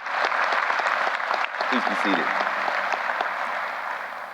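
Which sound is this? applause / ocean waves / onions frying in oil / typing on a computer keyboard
applause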